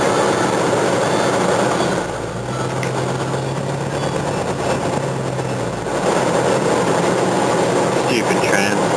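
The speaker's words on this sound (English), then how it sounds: "There's the tram." A tram passing in slow city traffic, a loud rolling rail rumble with a steady low drone through the middle, heard from nearby inside a vehicle, with someone talking over it.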